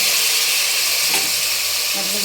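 Mutton trotters hit hot oil with fried ginger garlic paste, producing a loud, dense sizzle and hiss, close up, with stirring scrapes partway through.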